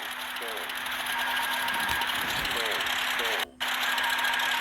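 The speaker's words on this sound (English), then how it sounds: "my engine malfunctioned. I'm going to start stalling." A malfunctioning Pitts Special S1 aerobatic plane engine in an airshow livery drones steadily in the GeoFS flight game, a constant buzzing whine with a brief dropout near the end.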